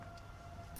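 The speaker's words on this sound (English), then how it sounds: "you could hear the outdoor warning sirens there" A faint, distant outdoor tornado warning siren in Kansas holds a steady wailing tone, continuous throughout the short stretch.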